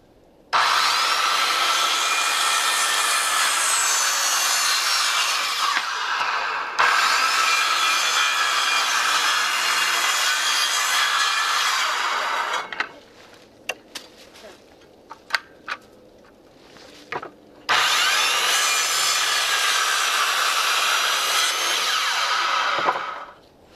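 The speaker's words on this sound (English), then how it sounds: "we're just going to split it down the middle and make them about 8 inches long and sharpen the end" Continuous hand sawing through an old 2x4, splitting it lengthwise into pegs, loud and close in two long sustained runs, then a pause with scattered knocks and scrapes before the sawing resumes.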